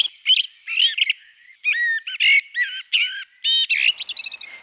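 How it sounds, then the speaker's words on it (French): A common blackbird sings alone in close, clear phrases of fluting whistles and chattering notes separated by short pauses, loud and crisp against a silent background. "Je rajoute son chant pour vous aider."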